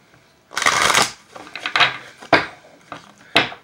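A deck of oracle cards is shuffled in several quick riffling bursts, crisp and close, with short pauses between them.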